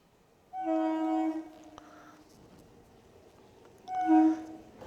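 A train passes at a railway level crossing, its horn blaring in two loud, sustained blasts separated by a quieter rumbling gap, heard nearby with no talk.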